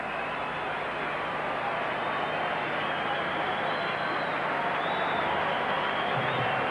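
A boxing arena crowd applauds Naseem Hamed with steady, continuous clapping and cheering, a broad wash of sound that holds even and loud from start to finish.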